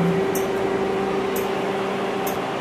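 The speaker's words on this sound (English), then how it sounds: "And now it's pulling a vacuum on the system." An auto AC recovery machine pulls a vacuum on a car's air-conditioning system, making a steady, loud mechanical hum with a constant drone and a few faint clicks, and no talking.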